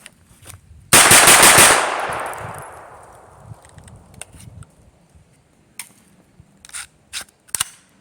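A mud-fouled 9mm AR rifle fires a loud, fast burst of shots with a long ringing echo tail, followed by faint clicks and handling noises.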